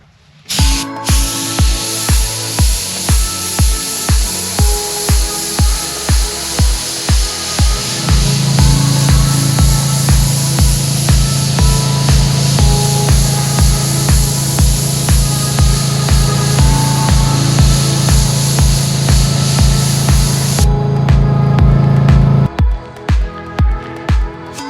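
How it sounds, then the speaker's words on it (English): An airbrush sprays thinned primer onto a cracked small carousel horse with a steady close hiss, punctuated throughout by a regular ticking pulse, and a deeper hum joins partway through before the spray cuts off. "I thinned it down really well so it'll go through my airbrush. Let's give it a little bit of primer."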